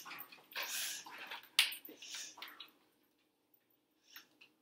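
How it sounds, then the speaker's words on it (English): A dog makes wet, gulping, snorting noises after eating too fast, a burst of close squishy hacks and sniffs that trails off into quiet with a couple of faint clicks. "That was weird. I think my dog ate too fast."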